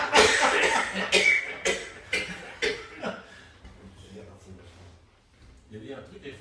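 A man coughs repeatedly in a run of loud, close, hacking bursts, which taper into softer coughs and chuckling.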